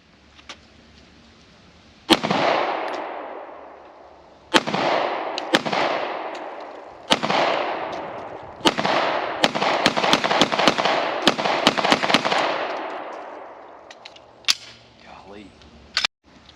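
A Walther PDP-LE pistol, a German service handgun, is fired at an outdoor range: about a dozen sharp shots at irregular intervals, some in quick pairs, each with a ringing, echoing tail, plus faint background voices.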